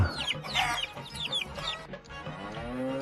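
A chicken clucks repeatedly and close by in quick, throaty bursts with a few higher squawks. Near the end a lower, drawn-out call rises.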